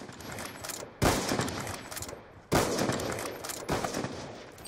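Gunshots fire in a shooting video game, with three sharp, loud blasts spaced about a second or more apart. Each one decays into a rumbling tail, and no talking is heard over them.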